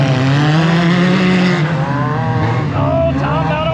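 Race cars roar around a track, loud and continuous, with engine pitch sweeping up and down as the cars accelerate and shift, a few tire squeals mixed into the dense mechanical noise.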